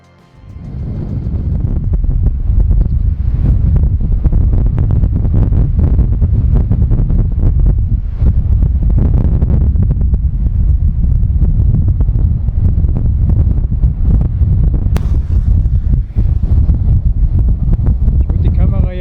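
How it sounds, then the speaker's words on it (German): Strong storm wind buffeting the microphone in an unsheltered bay on the Lofoten islands, loud, constant and gusty roaring for the whole stretch, with a voice speaking under it. "Leider ist der Sturm hier in der ungeschützten Bucht auch am stärksten."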